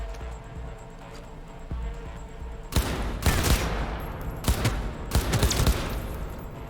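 Gunfire in the Cyberpunk 2077 video game, with several loud bursts of rapid shots separated by short pauses after a quieter stretch of low background hum.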